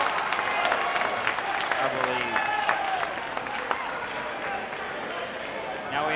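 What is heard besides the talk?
basketball crowd applauding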